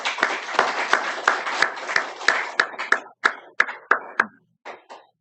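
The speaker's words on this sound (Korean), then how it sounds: "우리 목사님께 뜨거운 박수 하겠습니다" A congregation at a Korean church applauds their pastor with steady, rhythmic group clapping that loosens into scattered single claps and fades out toward the end.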